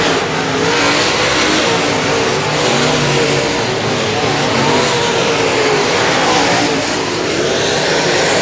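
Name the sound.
modified stock cars racing on a dirt speedway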